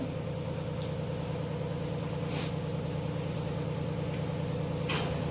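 An electric mixer grinder runs steadily, grinding roughly torn bread pieces into crumbs, a continuous motor whir and rattle with no pauses, moderately loud and alone.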